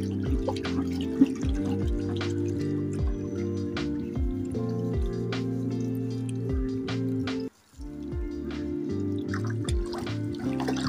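Liquid sodium silicate is poured into a laundry tablet soap mixture, giving a steady close trickling and dripping stream with brief drips and one short break near the end.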